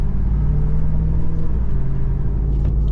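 A Ram TRX pickup truck drives steadily, with a continuous deep engine rumble and road noise heard from inside the cabin, loud and unbroken, without talk.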